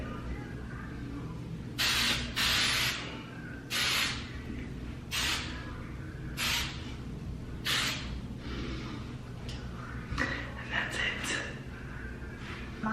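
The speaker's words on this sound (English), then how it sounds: "And then I do one more round of hairspray." Hairspray from an aerosol can hisses in a series of short, close bursts, about seven spritzes spaced a second or so apart over a low background hum.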